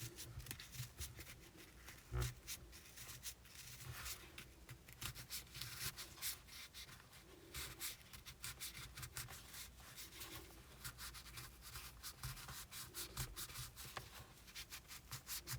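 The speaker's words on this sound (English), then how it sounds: "I'll take my trusty stick and go ahead and slowly stuff it up." A stick pushing stuffing into a crocheted amigurumi dragon, soft close scratchy rubbing and fibrous rustling in quick repeated strokes, faint and continuous.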